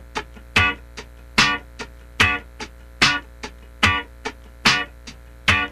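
Muted funk rhythm guitar plays sharp scratchy downstrokes on the downbeat, percussive chops falling in an even repeating pattern, close and clear with no talking.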